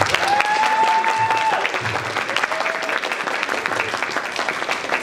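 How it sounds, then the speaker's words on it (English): Audience applause at a school induction ceremony for students, steady clapping from a crowd filling the whole stretch at even loudness, with a faint tone and some low murmurs underneath. "So let's give her another round of applause"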